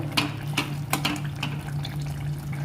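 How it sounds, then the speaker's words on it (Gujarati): Water is poured into a pan of ridge gourd curry as it cooks, giving a close, liquid splashing with a few sharp drips and clinks along the way. "હવે આપણે આ ડીશ ઉપર જે પાણી મૂકેલું હતું તે બધું જ ઉમેરી દઈશું"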